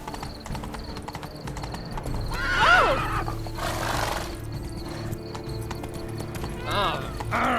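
Horse hooves clip-clop steadily in The Witcher 3 while the horse lets out a clear whinny partway through, with voices talking over the ride.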